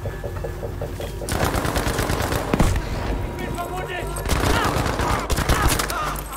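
Heavy gunfire in the video game Battlefield 5, dense bursts of rapid automatic shots and booming impacts that keep coming in loud waves, with a voice faintly mixed in among the shooting.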